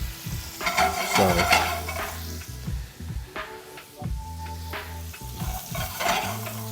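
Butter sizzles in a pan for challah French toast, a steady close hiss broken by scraping stirs and light utensil clicks, with a brief spoken word and a faint tonal backing underneath.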